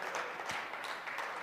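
Audience applause at a motivational talk, a faint, continuous wash of many hands clapping heard from a distance with no voices over it.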